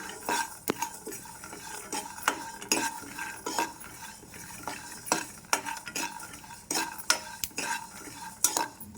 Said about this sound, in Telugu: ఈ నువ్వులు వేగుతుంటే చిట్పట్లాడాలండి